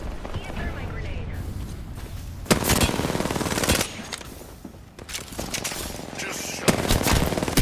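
Gunfire in the battle royale game Apex Legends: loud bursts of rapid automatic shots, some sustained and some separated by short gaps, with a voice speaking briefly between them.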